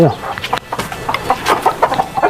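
Farm chickens cluck in a rapid, irregular series of short calls at close range, with a few louder squawks standing out over the flock.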